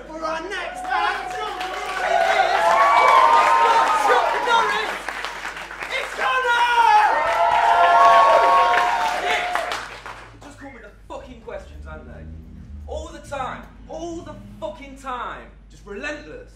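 Applause greets the next act at a monologue performance night: loud, full clapping for about ten seconds with some voices chattering, then it stops and a single voice speaks alone.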